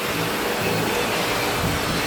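Power sander working over the bare, stripped body of a Mitsubishi Evo X under restoration: a steady, loud whirring drone that holds without a break, no talking.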